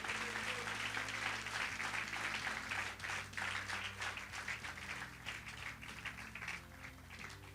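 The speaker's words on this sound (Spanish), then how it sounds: "Dale un fuerte aplauso al Señor." Church congregation giving a round of applause during a worship service, dense continuous clapping that gradually fades, heard faintly over a sustained low musical drone.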